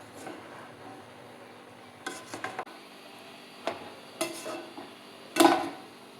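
Prawn rice being mixed together in a pot: a few scattered scrapes and clinks of a utensil against the pot over a quiet background, with the sharpest knock near the end.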